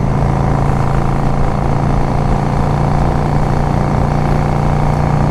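A 2005 Yamaha V Star 650 motorcycle engine hums steadily at cruising speed, loud and close, with an even drone and constant wind rush and no change in pitch.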